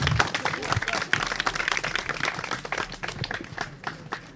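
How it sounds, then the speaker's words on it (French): Audience applause for a student's climate presentation at an event in Cameroon's Far North region: scattered hand claps, moderately loud and fairly close, running throughout with some voices underneath. "On applaudit très fort."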